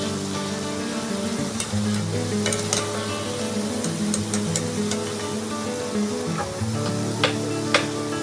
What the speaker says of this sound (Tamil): நல்லா கோல்டன் ப்ரௌன் ஆற வரைக்கும் நம்ம ஃப்ரை பண்ணி எடுக்கணும்